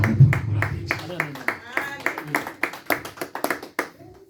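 A church congregation claps in a quick, steady rhythm during a pastor's sermon, with sharp, close hand claps and voices mixed in throughout.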